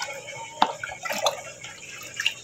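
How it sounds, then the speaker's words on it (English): Aged water poured into a plastic mosquito breeding tank, heard as sparse splashes and drips close by with brief trickling bursts between quiet gaps. "So we can fill this breeding tank half,"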